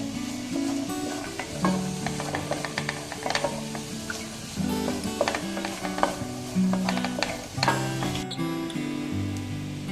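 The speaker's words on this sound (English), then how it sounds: "And we'll cook all these vegetables first nicely." Vegetables frying in a pan, a continuous close sizzle with frequent stirring scrapes and light clinks of a utensil against the pan, with no voices.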